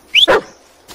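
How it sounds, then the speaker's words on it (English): A dog in the Blair Witch video game gives a single short, high yip followed at once by a fuller close bark, with no talk. "Pet the dog."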